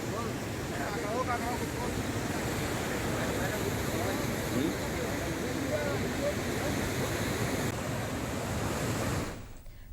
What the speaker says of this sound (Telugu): సరళసాగర్ జలాశయం నుంచి కొత్తపల్లి వాగు రామన్పాడు డ్యాంలోకి భారీగా నీరు చేరుతోంది